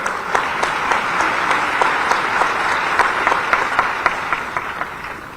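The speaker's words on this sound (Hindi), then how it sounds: "ताली और ठीक ठाक हो जाए।" Audience at a Bhopal award ceremony for taxpayers applauds steadily, a dense sustained clapping from a large hall crowd with a few sharper individual claps standing out, lasting throughout at a moderate level.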